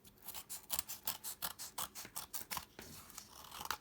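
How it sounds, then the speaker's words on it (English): Scissors snip away excess paper along the edges of a junk journal page in a quick run of crisp, close cuts, about a dozen rhythmic snips with no talking. "along the sides, I'm just going to cut off the excess."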